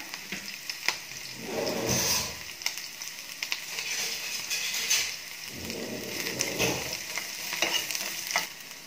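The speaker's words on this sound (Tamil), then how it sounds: "அதில் ஒரு பாதி மட்டும் எடுத்து இதில் போட்டு நான் ஃப்ரை பண்ண போகிறேன்" Onion frying and being stirred in a pan for a paneer butter masala, a steady sizzle with bursts of louder stirring and scraping at a moderate level, no talk.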